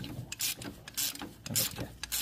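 A fifth gear being pulled off its shaft inside a car gearbox gives a close run of rhythmic metallic ratcheting and sliding scrapes, repeating about every half second with no talk.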